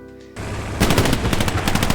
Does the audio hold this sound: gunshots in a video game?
yes